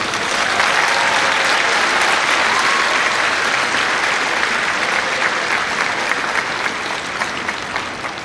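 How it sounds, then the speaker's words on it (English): An audience at the 2018 UCC commencement service applauds the graduating class: steady, loud, sustained clapping from a large crowd that tapers slightly at the end. "Could you give them a round of applause?"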